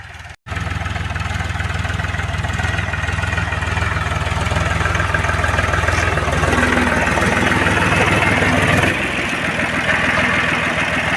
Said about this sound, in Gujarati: જો ટ્રેક્ટર બંધા નાખતું આવે છે